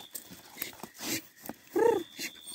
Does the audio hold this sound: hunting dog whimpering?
yes